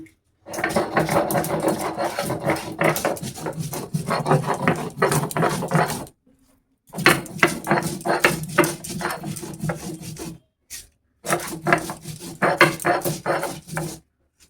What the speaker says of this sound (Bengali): কাঁচা লঙ্কা আর এই আদা, এগুলো বেটে নেব